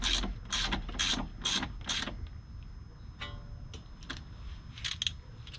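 A ratchet wrench snugs bolts on the knuckle and strut top during an Air Lift suspension install on a 2019 Subaru WRX. It makes close, loud bursts of rapid clicking, with five quick runs at first and then scattered shorter ratcheting.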